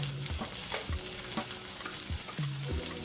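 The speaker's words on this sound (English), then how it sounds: "in the same pot, I'll go ahead and add a bit of oil. I'll add my onions." Onions frying in oil in a pot give a soft, steady sizzle, broken by repeated scraping stir strokes, with no voices.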